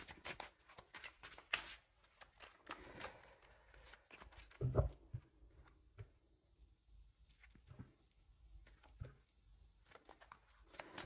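Oracle cards being shuffled in a recurring series of soft papery riffles and taps, quiet and close, with a few sharper knocks midway and no talking.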